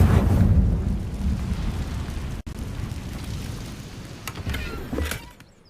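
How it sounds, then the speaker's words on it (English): An Incendio fire spell is cast in Hogwarts Legacy, a loud rumbling whoosh of flame that swells at once and slowly fades, with a few crackling bursts near the end before it cuts off. "Incendio!"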